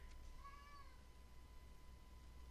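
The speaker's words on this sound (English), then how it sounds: "If you can hear my cat, I'm sorry about that." A single faint, short meow from a cat sounds against a quiet room hum.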